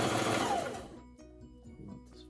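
Sewing machine stitching fabric for a mask hood, a loud continuous motor whir that runs for about a second and then drops to quieter, intermittent clicks and hum.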